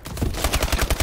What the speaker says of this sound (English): Oh, stop shooting.